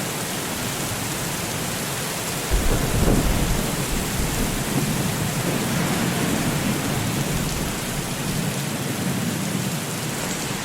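Heavy rain pours steadily during a thunderstorm over Rio Grande do Sul, a loud dense hiss, with deep thunder rumbling in around the middle and rolling on under the downpour.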